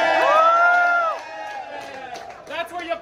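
A cheer rises at Pike Place Market's flying-fish stall in Seattle: a loud, drawn-out shouted whoop, then a quieter stretch and a second burst of shouting voices near the end.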